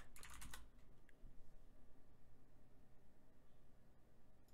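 Rapid typing on a computer keyboard, a dense close burst of keystrokes at the start followed by quieter scattered taps over a low steady hum.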